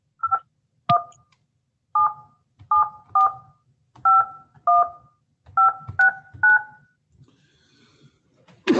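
Telephone keypad tones as a number is dialed on a phone during a video meeting: eleven separate dual-tone beeps in an uneven rhythm, clear and close, with no talking over them.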